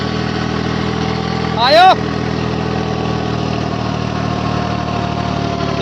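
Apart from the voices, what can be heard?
tractor engine running with rotavator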